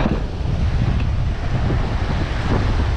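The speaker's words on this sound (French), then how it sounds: "histoire de voir comment se comportent les vagues sur le plateau que je veux faire" Ocean waves surging over a shallow coastal rock shelf at a fishing spot, a continuous loud roar of surf and wash mixed with heavy wind buffeting the microphone, with no voices.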